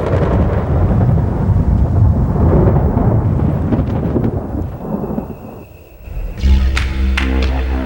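Thunder booms and rolls loudly through a heavy rainstorm, then fades before another sharp crack and a deep rumble break in near the end.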